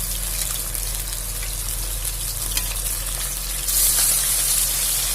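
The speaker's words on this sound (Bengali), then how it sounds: "এবার ভেজে নিচ্ছি মাছটাকে।" Salted, turmeric-rubbed fish pieces fry in mustard oil in a kadai with a dense, steady crackling sizzle that swells louder near the end, over a low constant hum, close up with no talking.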